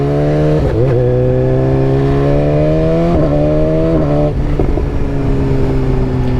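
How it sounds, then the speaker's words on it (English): BMW S 1000 XR inline-four motorcycle engine revving up and down repeatedly, loud and close with rising and falling pitch, no talking. "I don't think I've actually ridden an inline 4 in quite a while. It sounds pretty good."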